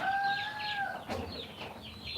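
Chickens on a poultry farm cluck and call close by, with a sustained high tonal note early on, then a burst of overlapping clucking that continues through the end.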